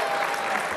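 Studio audience on a Spanish TV show applauds a band, a dense, steady wash of clapping filling the brief moment without any talk.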